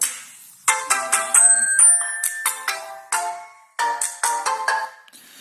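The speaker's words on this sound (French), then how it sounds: "sonnerie téléphone, voilà." A bright, melodic phone ringtone plays a series of chiming bell-like notes in a bouncy rhythm, loud and clear with short pauses between phrases.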